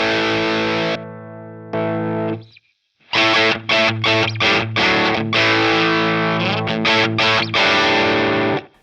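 An electric guitar plays through a Joyo King of Kings distortion pedal, heavily clipped sustained chords followed by a string of choppy, rhythmic palm-muted stabs, loud and close.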